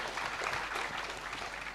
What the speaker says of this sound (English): I think maybe it's right to just give them just a big round of applause for what they've done